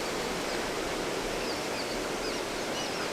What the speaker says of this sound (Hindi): ये पानी की धाराएँ नीचे बह रही हैं।